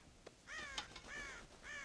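Crows caw in the Western video game Red Dead Redemption, a few harsh, drawn-out calls repeating close together at moderate volume, with no speech.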